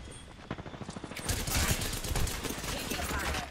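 Rapid gunfire crackles in Apex Legends, starting as a light series of shots and swelling into a dense, continuous burst of automatic fire that stays loud and close to the end.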